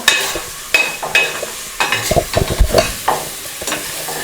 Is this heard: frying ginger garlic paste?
yes